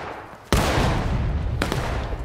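Loud, sudden gunfire and artillery booms erupt in a battle video game, a sustained roar of blasts with a second heavy report about a second later, close and dominant with no talking.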